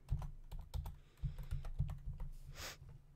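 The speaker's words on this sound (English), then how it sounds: "I'm just gonna type in at Botania." Keys clatter on a computer keyboard in quick irregular bursts of close, crisp taps, several strokes in a row with short pauses, no voices.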